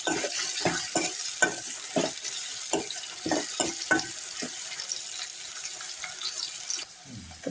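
Onion and tomato being sautéed in a pan for chole masala, with a steady sizzle and repeated scraping stirs of a spoon against the pan, close and moderately loud, with no talking.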